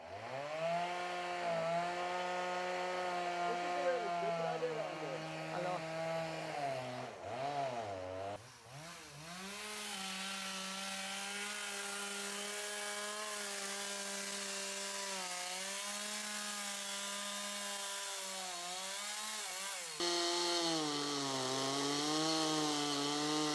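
A chainsaw felling a tree, running at a steady high-pitched whine that changes pitch as it works through the wood, briefly dips near the middle, then revs louder toward the end, close and continuous.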